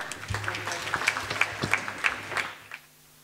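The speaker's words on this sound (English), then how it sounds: "Please give them a big round of applause" An audience at a school annual day applauds prize winners. The clapping runs steady and fairly close, then fades out near the end.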